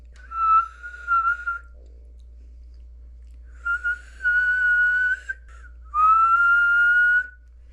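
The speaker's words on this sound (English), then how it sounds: "just whistle a couple times for me" A person whistles several clear sustained tones, a short first burst followed by longer rising notes, close and isolated against a low steady hum with silence between.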